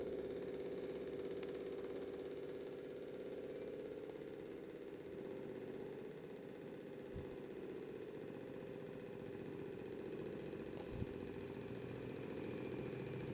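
A Newman motor runs under a load test, giving a steady, continuous mechanical hum with a low drone and faint vibration, with no speech over it.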